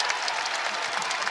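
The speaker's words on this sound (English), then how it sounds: "the applause is indeed for Emily Kaiser coming back into the game" A crowd claps steadily and fairly loudly at a Michigan vs Indiana college basketball game inside an arena, a dense wash of applause that holds without a break.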